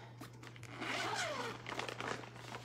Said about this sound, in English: It's full, it zips pretty comfortably